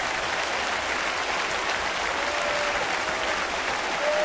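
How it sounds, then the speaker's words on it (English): Crowd at a Blue Jays baseball game in Toronto cheering and applauding, a dense continuous roar of clapping and cheers from a stadium full of fans. "Crowd on their feet."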